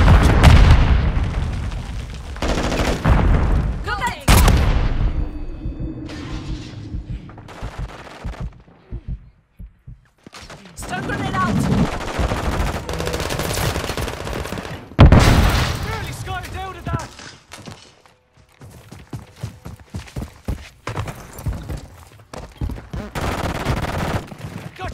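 Heavy gunfire and explosions in a Call of Duty Modern Warfare 3 firefight: repeated loud bursts of rifle fire, sharp booms and grenade blasts come in dense clusters, with brief lulls between them and voices talking over the combat.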